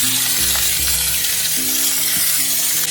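Prawns sizzle steadily in a hot oiled pan, a continuous broadband crackle holding at an even level throughout, with faint tonal sounds running beneath it.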